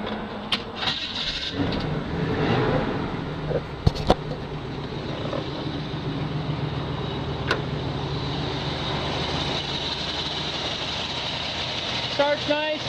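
Stock engine in a 1972 Chevrolet C10 pickup cranks briefly and fires, then settles into a steady, smooth idle that runs on loudly, with a few clicks near the start and end.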